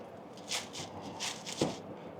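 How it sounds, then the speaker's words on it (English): A few quick, crisp scissor snips through a plastic roasting bag and rustles, close by and fairly quiet, spaced irregularly over a couple of seconds. "And we'll take my scissors"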